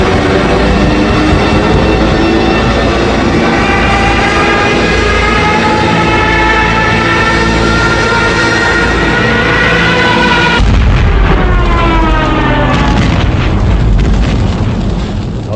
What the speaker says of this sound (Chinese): 我放一段斯图卡这个俯冲轰炸这个啸叫，大家可以这个感受一下这种恐惧